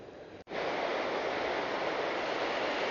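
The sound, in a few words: river water thundering down over a weir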